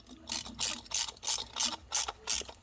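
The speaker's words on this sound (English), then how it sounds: "Pliers and your socket wrench." Socket wrench ratcheting in a run of about eight quick, evenly spaced clicking bursts, close and fairly quiet, with no talk.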